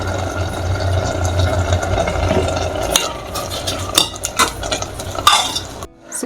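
Cooked gongura leaves are mashed with oil and salt in a pan, giving a steady scraping and squelching with clinks of a utensil against the vessel, close and fairly loud, ending in a short pause.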